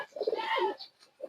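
Kalchira pigeons give soft, low cooing calls close by in short rounded bursts with a brief pause between them, and no talk is heard.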